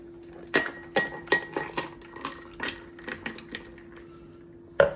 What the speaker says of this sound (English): And then pour it in a glass.